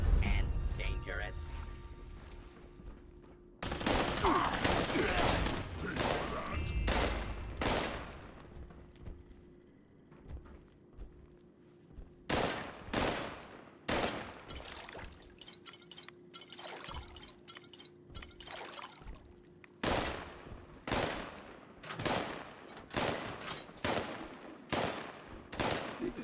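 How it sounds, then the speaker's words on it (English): A video game character fires a gun at nothing, producing repeated sharp bursts of gunfire that cluster in rapid volleys with brief gaps, loud and close over a quieter background. "You just hear him shoot at nothing."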